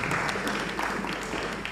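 An audience at the launch of Ubuntu Academy claps in steady, dense applause that fills the space throughout, with many hands blending into an even, fairly loud patter.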